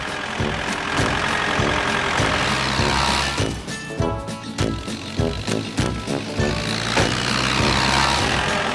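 Engine of the little red cartoon tractor chugging steadily as it drives off, a continuous mid-pitched rumble with knocking pulses, loud and close, layered with background music and no talk.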